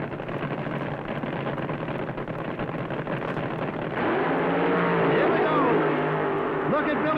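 Drag racing cars at the 1974 NHRA U.S. Nationals in Indianapolis give a loud, dense engine roar that swells midway. Rising and falling engine tones then stand out as the cars run down the strip.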